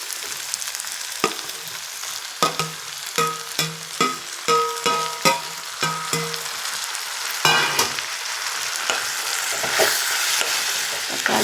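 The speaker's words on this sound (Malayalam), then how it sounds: "തക്കാളി ഇട്ട് കൊടുത്തിട്ട് നന്നായി ഇളക്കി ഇതൊന്ന് മൂടി വെച്ച് വേവിക്കണം." Okra and onion frying in a pan, a continuous sizzle broken by repeated scraping clatters of a spoon stirring at a steady rhythm, close and clear with no voices.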